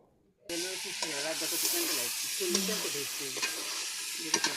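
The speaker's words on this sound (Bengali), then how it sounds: "এরপর মাছগুলো মশলার সাথে ভালোভাবে নেড়ে নিয়ে কুচিয়ে নেব।" Fish pieces coated in spices hiss and sizzle in a hot pan as they are stirred. After a short silence the frying starts abruptly and continues steadily beneath a person's talking, with occasional sharper spatters.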